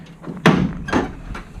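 A door on a 1959 Ford Ranch Wagon needing adjustment is slammed shut with a heavy metallic thud, followed by a second bang and a lighter knock, all close and loud.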